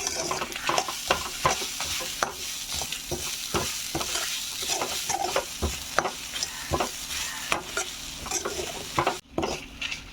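Grated coconut, shallots, ginger, dried chillies and curry leaves roasting in a pan, with a soft steady sizzle broken by repeated scraping strokes of a spatula stirring close by.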